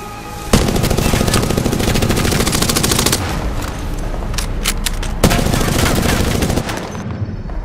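Gunfire in Apex Legends rattles out as loud, sustained automatic bursts, with heavy impacts at the start and midway, and dense overlapping shots throughout.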